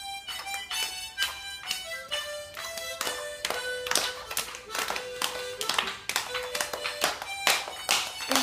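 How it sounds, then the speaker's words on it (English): Listeners clap along in time to a melodic song, crisp, close hand claps landing on a regular beat over the tune, each clap sharp and distinct. "Getting them all clapping."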